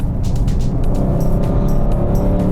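A 2020 Mercedes-AMG GLC 63 S Coupe with 503 hp accelerates hard, its engine giving a loud, steady, throaty roar close by, with no speech.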